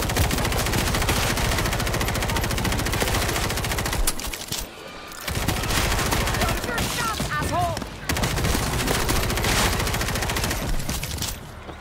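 Relentless automatic gunfire from World War Z's Marseille Missile Command mission, dense overlapping bursts with brief lulls around the middle, loud and continuous, with a voice talking faintly underneath.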